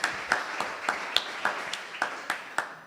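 At a church service, people clap in a steady, even rhythm of about ten distinct claps, close and moderately loud.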